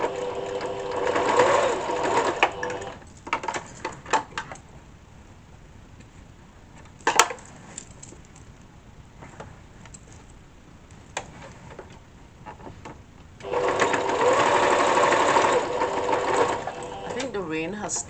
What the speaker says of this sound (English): you're going to stitch right across there, and that would be extra support